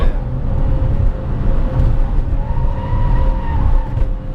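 A 2017 Chevrolet Spark with a 1.0 engine driven hard, heard from inside as a loud, strained engine drone with rising whine and road rumble, holding steady without talk.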